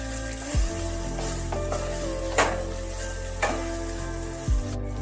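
Prawn, ridge gourd and poppy seed mixture with onions fries gently on a low flame as it is stirred, giving a soft steady sizzle with occasional spatula scrapes over a constant low hum.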